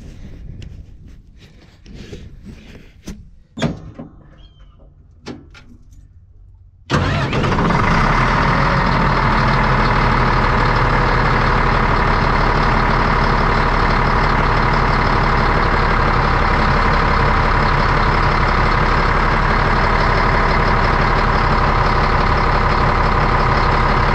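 A Caterpillar D6 bulldozer engine, running rough, cranks after a few quiet clicks and clatters, then fires and settles into a loud, steady diesel idle that continues unbroken for the rest of the clip.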